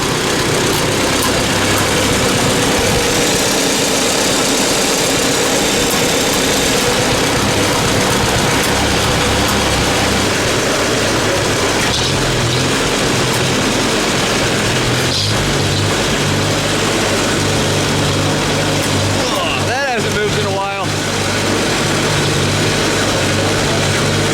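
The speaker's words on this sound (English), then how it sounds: "Yeah, this thing idles down nice." An old Farmall tractor engine idles steadily and loudly close by, with a low, even rumble that runs without a break and has no talk over it.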